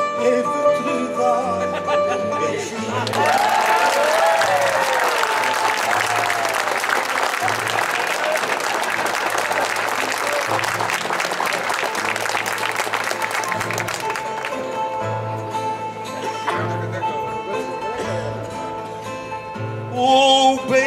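Crowd at a Festas do Divino Espírito Santo cantoria breaks into sustained applause after a sung verse, loud and dense for several seconds, then thinning as instruments and voices return underneath.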